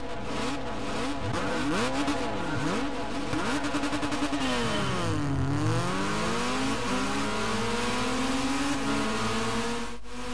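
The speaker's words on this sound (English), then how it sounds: "that engine roar of the Red Bull Juniors, and basically all the Red Bull cars seems to be like this, is really, really good" A Red Bull Junior race car's engine roars continuously in the Gran Turismo 6 video game, revving up and down through the gears with a steady, loud, high-pitched whine and no talking.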